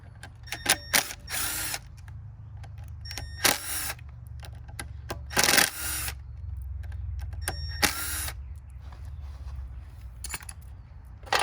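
Removing the power valve cover on a 1991 Yamaha YZ250 two-stroke: close, sharp bursts of ratchet clicking in irregular short runs, separated by quieter gaps over a low background hum.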